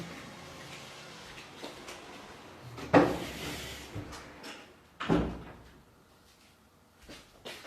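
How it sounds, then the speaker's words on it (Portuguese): An indoor door is shut during a home recording. Two distinct knocks and thuds stand out against quiet room noise, one about midway and a second a couple of seconds later. "Só vou fechar a porta aqui que está um pouquinho de barulho."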